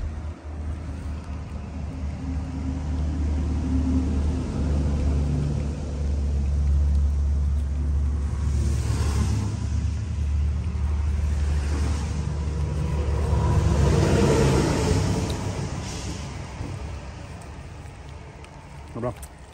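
A diesel truck engine runs with a steady low rumble and broadband roar throughout, swelling in intensity midway, while people talk nearby over the sound.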